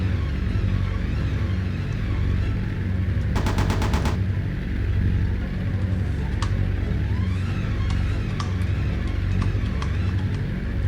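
Aircraft guns firing in the Aces High 2 flight sim, a short dense burst of rapid rounds near the middle over a steady, pulsing engine drone, with a few isolated sharp clicks afterward.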